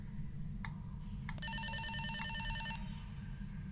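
A trilling electronic phone ring from the game Escape the Backrooms sounds for about a second and a half over a steady low rumble, preceded by a couple of faint beeps.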